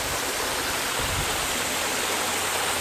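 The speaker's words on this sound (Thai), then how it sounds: "โอ้น้ำตกสวยเลยครับ" A garden waterfall roars with a loud, steady broadband rush of falling water that fills the whole stretch evenly, with no voices over it.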